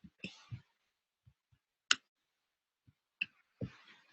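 Faint, sparse keyboard clicks while typing text, a few isolated taps spread across several seconds in a quiet room.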